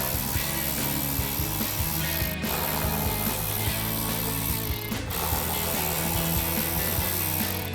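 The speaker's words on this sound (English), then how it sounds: "we're gonna grab our ratchet and 7mm socket to take all those out" A hand ratchet with a 7mm socket clicking steadily and rapidly while wheel liner screws are backed out of a 2014-2019 Corvette C7, loud and close, with two brief pauses where the ratcheting stops.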